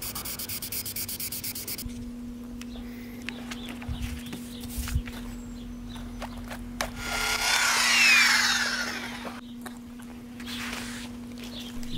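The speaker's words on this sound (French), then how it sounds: "le vernis est sûrement prêt à être rasé de près. Eh oui, je reviens armé de ma lame la plus affûtée" A sharp blade scrapes down varnish on a car's paintwork in short rasping strokes over a steady low electrical hum, close and fairly quiet, with one longer louder scrape toward the end.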